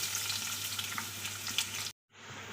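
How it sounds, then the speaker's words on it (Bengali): Onions sizzle and fry in hot white oil in a kadai, a steady crackling hiss close by that cuts out abruptly near the end, then resumes more faintly. "এখন তেলের মধ্যে দিচ্ছি পেঁয়াজ"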